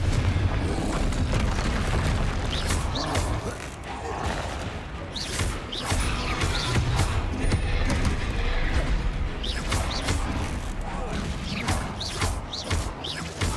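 Confringo fire spells in the video game Hogwarts Legacy set off repeated booming explosions, each a loud burst rolling over a continuous noisy battle din during a troll fight.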